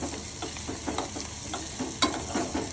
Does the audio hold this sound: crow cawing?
no